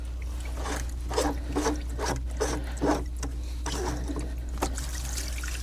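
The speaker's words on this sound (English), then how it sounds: "I will loosen enough until water is able to escape." Water trickles and splashes out of a loosened bottom union on a UV2 pool system being drained for freezing weather, a steady close dribble with uneven bursts of splashing.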